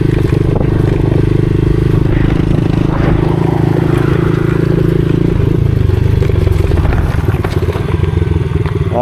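A pit bike rides a flat track of loose dirt down a rifle range, its small engine droning steadily up close with a shift in pitch midway, while faint clatter and scraping sit under the motor throughout.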